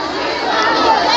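Election-day crowd in Sierra Leone: a dense, steady wash of many voices chattering and calling out close by, with no single voice standing out.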